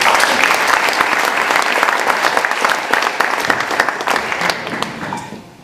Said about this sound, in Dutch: Mini Schout, even een applaus